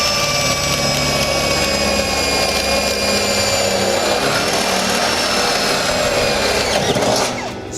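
A big electric rotary hammer runs steadily and loudly for the whole stretch, a constant motor whine with a rough hammering texture, then eases off right at the end.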